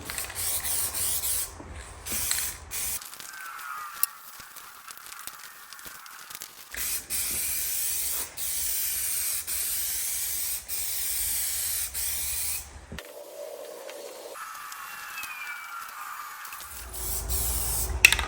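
Spray paint hisses onto lawn tractor parts of a John Deere L130 during the final coat, in several long, steady, close bursts with brief pauses between them.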